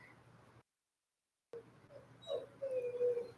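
An old dog whimpers and whines in soft, drawn-out high cries after a brief silence, close by and alone in a quiet room.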